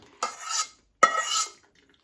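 Cooked fish is rubbed through a metal strainer in two quick scraping strokes, each a close, bright rasp followed by a short pause.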